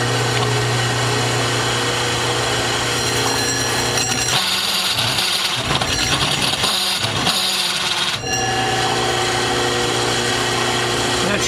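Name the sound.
mini snapper motor running while cutting, making odd noise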